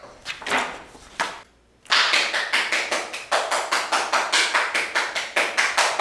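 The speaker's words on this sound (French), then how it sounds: "Pourquoi tu applaudis?" Hands clap alone at close range: a few scattered claps, a short pause, then a steady, evenly spaced run of sharp claps that keeps a regular beat to the end.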